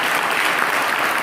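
An audience claps together at the inauguration of a church vacation Bible school, a dense, steady burst of applause with no voices above it.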